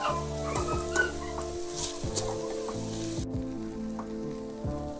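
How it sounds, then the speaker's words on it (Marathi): Wild greens stir-fried in a pan give a steady, close sizzle with light stirring, while hens cluck and call in the background throughout. "तर आता मस्त अशी भाजी हलवून घेते"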